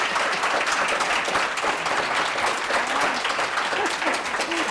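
An audience gives sustained applause for the inaugural class of Elite Women in Manufacturing being honored at an event, a loud, full, even roar of many hands clapping that holds steady from start to finish.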